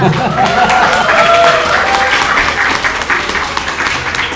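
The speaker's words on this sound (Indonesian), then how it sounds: "Tepuk tangan dulu." Students in a university lecture clap together, the applause loud and close with brief voices audible above the clapping before it thins out toward the end.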